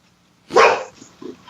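A single loud, close dog bark rings out, followed by a couple of fainter yips.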